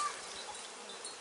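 Honey bees swarm across the top of both sides of a hive's brood box, making a faint, continuous buzzing hum that stays low and steady for a brief moment.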